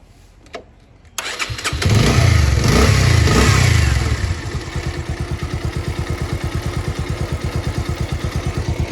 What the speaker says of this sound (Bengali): ভাই একটু ইঞ্জিনের সাউন্ডটা দেখি কেমন।